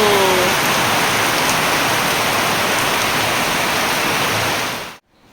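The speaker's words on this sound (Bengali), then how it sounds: "জন্মের বৃষ্টি নেমেছে দেখো" Heavy rain pouring down in a dense, loud, steady roar that holds evenly before cutting off abruptly near the end.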